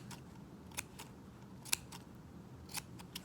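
Scissors trim a yarn pom-pom in a series of sharp, quiet snips at uneven intervals, heard close against a faint, hushed background.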